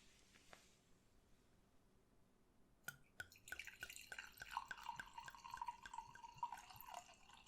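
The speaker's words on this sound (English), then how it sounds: "let me pour you this glass" A quiet click, then red wine pours steadily into a glass with a bright, rising gurgle that continues for several seconds.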